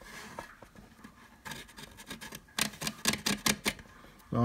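A wood-filled 3D print is sanded by hand with sandpaper, giving close, scratchy rasping strokes that start soft and grow into a quick run of louder back-and-forth rubs.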